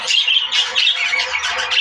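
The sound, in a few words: pair of budgerigars squawking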